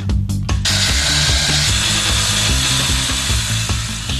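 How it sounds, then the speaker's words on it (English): A power tool cuts through metal during frame fabrication, a loud, steady grinding whine with a harsh rasping edge. A few sharp clanks come first, and the cut continues without letup. "getting stuck into a marathon of cutting and welding"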